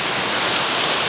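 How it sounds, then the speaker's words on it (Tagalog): A strong river current rushes in Talisay, Batangas after heavy rain from the mountains, a loud, close, steady roar of churning water. "Lakas ng agos."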